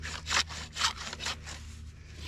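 A hand saw rasps through thick lake ice in Alaska, with three strong strokes in an even back-and-forth rhythm, close and gritty, before the strokes fade into lighter scraping.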